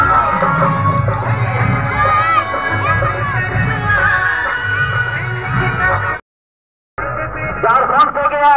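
A thick crowd fills a Tusu village fair, the Bansing mela in Raghukanapuriya, with loud overlapping chatter and shouts all around. The sound breaks off into a short silence before the bustle resumes.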